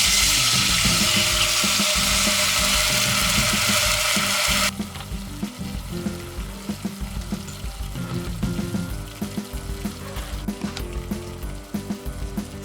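Cumin seeds and tamarind pulp hit hot oil, bursting into a loud, bright hiss that quickly settles into steady, close sizzling and crackling with no one talking.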